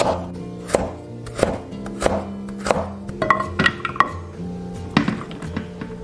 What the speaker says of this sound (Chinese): 准备半个胡萝卜切条